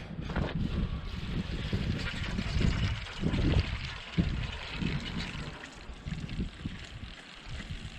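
Water gushes steadily through a corn planter's starter fertilizer system as it is flushed out, a continuous rushing and trickling wash that runs the whole time, with outdoor noise around it.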